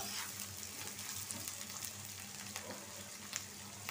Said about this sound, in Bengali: একটু ভাজা নিব, বাদামি রং করে নিব, যাতে রসুন আর পেঁয়াজের কাঁচা গন্ধটা চলে যায়, এরকম ভাবে ভাজবো।